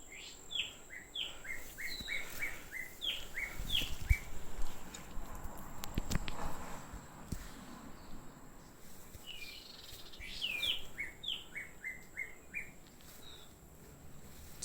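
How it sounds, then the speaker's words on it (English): Birds chirp in a forest at Sudhagad, with bursts of quick, rising tweets early and again later, faint and somewhat distant over a soft hum of insects and occasional rustling. "the chirping of the birds."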